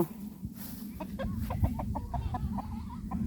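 Chickens cluck repeatedly in short, irregular bursts over a steady low rumble of farmyard background noise, fairly close and moderately loud.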